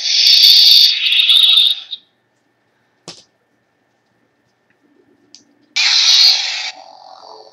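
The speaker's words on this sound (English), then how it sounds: "See, they both have the same blaster effect." A buzzing electronic hum of a budget Kyojin lightsaber from YDD Sabers that cuts out, a brief snap in the silence, then the hum bursts back on loudly as a blaster-deflection effect, close with no talking.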